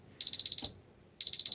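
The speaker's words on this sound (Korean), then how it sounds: "알람이 돼 있네요." An electronic alarm beeps in quick bursts of four or five shrill, evenly spaced tones, pauses briefly, then repeats the same rapid pattern, loud and close in a church setting.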